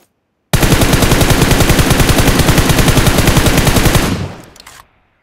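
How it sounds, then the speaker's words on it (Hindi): Random gunfire in a mobile shooter game: a loud, sustained burst of rapid automatic fire, evenly paced for about three and a half seconds before tapering off with a fading tail. "मैंने रैंडम फायर ही किया था"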